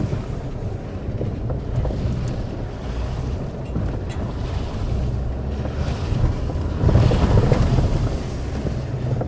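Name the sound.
off-road vehicle driving through a puddle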